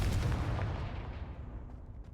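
A Confringo explosion spell from Hogwarts Legacy goes off as one loud, booming blast that rolls away over about two seconds, with no talk over it.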